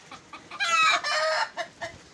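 Young roosters clucking and crowing close by, a few short clucks leading into two loud drawn-out crows, then more clucks, with no talk over them.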